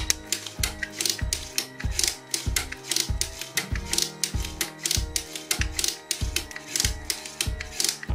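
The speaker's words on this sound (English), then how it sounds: "That distinctive sound you can hear here is actually the ratchets on the levers allowing the knobs to be rotated." LEGO Technic ratchets on the levers of a servo stepper mechanism click in rapid, regular bursts as the knobs turn. The mechanical clatter is close and crisp and repeats steadily throughout, with no talking.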